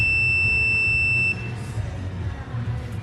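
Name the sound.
multimeter continuity beep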